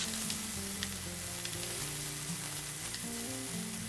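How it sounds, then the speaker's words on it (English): Pork slices sizzle steadily in hot oil in a pan, a dense continuous frying hiss with faint crackles throughout and no voices. "Spread the pork out in one layer at the bottom of the pan."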